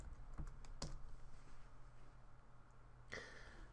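Computer keyboard typing in short bursts, a few quick distinct clicks followed by a pause and then another brief key sequence, faint and close in a quiet room.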